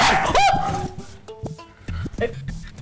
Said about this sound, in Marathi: कुत्र्याचं पिल्लू